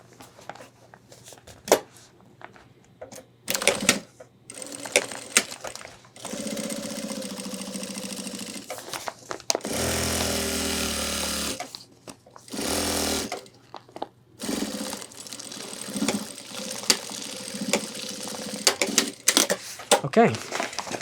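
A sewing machine stitches through the bulky final section of a homemade 30-litre ultralight hiking backpack, running in several loud bursts with pauses and handling clicks between them.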